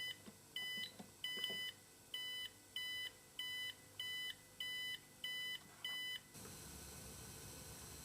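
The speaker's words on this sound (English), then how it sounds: "we get a visual as well as an audible indication that the unit has been applied to a live circuit" A Megger MFT1552/MFT1553 electrical tester gives its live-circuit warning as a run of about ten evenly spaced electronic beeps, each lasting under half a second. The beeps are clear but fairly quiet, and a soft hiss is left once they stop.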